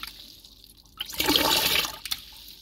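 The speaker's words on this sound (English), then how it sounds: "when that ball falls down, it needs to pour in" Toilet cistern refilling through a repaired ball cock valve: a loud rush of water bursts in after a quiet start, holds steady for about a second, then cuts off, with a brief splash afterward.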